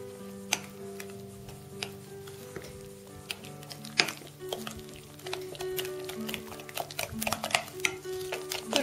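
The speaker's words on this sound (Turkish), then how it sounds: "tereyağı, yumurtayı ve pudra şekerini kısa bir süre karıştırıyoruz." Butter, egg and powdered sugar stirred briefly in a bowl, giving light clinking and scraping taps scattered through the stretch, close and fairly quiet.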